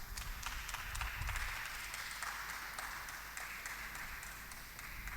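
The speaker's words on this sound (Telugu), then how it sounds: "ఎంతో చక్కని వర్తమానాన్ని మనకిచ్చిన సహోదరులందరికీ ఒకసారి అప్లాజ్." Applause from a women's fellowship meeting audience for the speakers, a steady broadband patter of many hands clapping that fills the hall for several seconds at moderate distance, with faint voices underneath.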